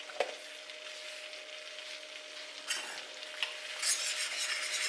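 Flour being stirred with a whisk into a hot pan, a continuous close sizzle with brushing, scraping strokes that swell toward the end, no speech.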